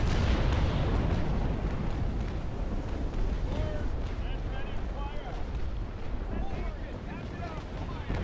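Ship cannon fire in the Naval Action video game during a Russian versus British naval battle: a continuous heavy rumbling roar of broadside gunfire, loud and dense throughout.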